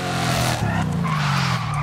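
A car drifts in the video game Forza Horizon 5, its engine droning loudly under a continuous tire squeal with a brief dip partway through.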